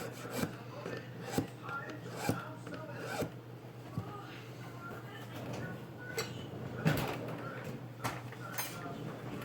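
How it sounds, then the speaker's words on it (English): A small hand file rasps against a part of a TLR 8ight-T 4.0 RC truggy during assembly, giving quiet, irregular scraping strokes with soft knocks between them, close up at low volume. "What I'm gonna do is take a little file"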